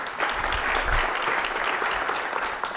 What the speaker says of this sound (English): And with that ripple of applause, Kris, keep it going for Kris